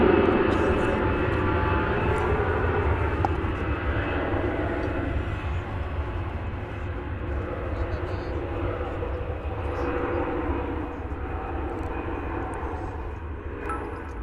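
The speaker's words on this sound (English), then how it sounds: "a little Delta Airbus A319 action" Delta Airbus A319 jet bound for Los Angeles passing at DFW Airport, a steady broadband engine roar holding for the whole stretch and easing slightly toward the end, with faint talk underneath.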